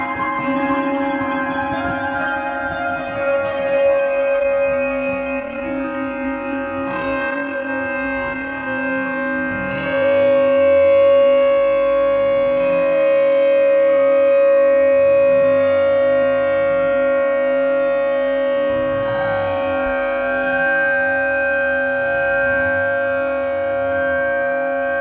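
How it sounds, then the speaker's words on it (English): Extreme time-stretched playback in Ableton with the tempo pulled far down, giving smeared, sustained droning tones that swell and shift slowly like a wailing siren, continuous and loud. "I'm going to pull the tempo down hundreds of beats per minute"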